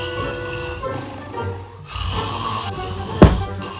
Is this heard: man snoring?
yes